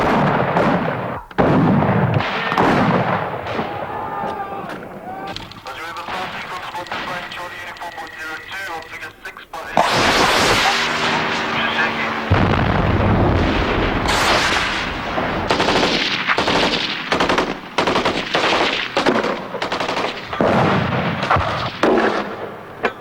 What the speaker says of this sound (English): There are mortars there.